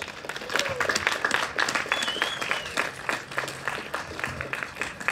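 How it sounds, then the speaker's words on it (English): Audience at a public debate event gives enthusiastic applause, dense clapping from many hands that is moderately loud and sustained for several seconds, with faint crowd murmur underneath. "would you give an enthusiastic applause to Roberto, please?"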